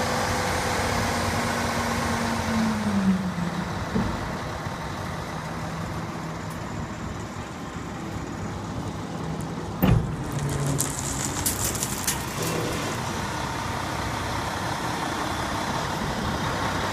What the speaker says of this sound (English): We're going to go ahead and dump the bed.